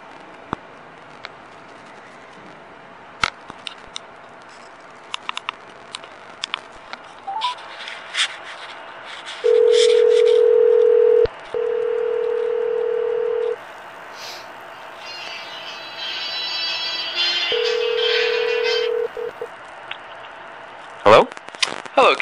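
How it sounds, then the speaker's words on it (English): An outgoing cell phone call is captured through a 3.5mm jack recorder: scattered clicks of button handling, then long steady ringback tones in three spaced bursts, followed by a brief rising chirp and clatter. "I'm going to make a phone call."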